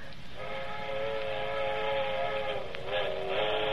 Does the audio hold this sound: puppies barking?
no